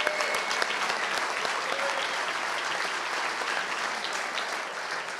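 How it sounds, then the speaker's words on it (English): Applause at a sports awards dinner, a large crowd clapping steadily in a big hall, sustained and even from start to finish and heard from a distance. "One last round of applause, if you would."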